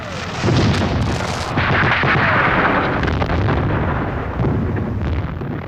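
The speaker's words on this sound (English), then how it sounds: "The guns laid down a barrage, and through the night, the forward troops went in." A WWII Allied artillery barrage near Ortona, Italy, during the Moro River crossing: loud, dense, continuous thunder of guns firing, with overlapping booms and blasts rolling together and no pause.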